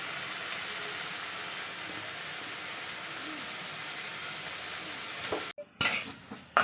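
Centella leaf chutney sizzles steadily as it fries in a pan and gets stirred, a constant hiss that holds for several seconds before a few sharp scraping clinks of the spoon near the end.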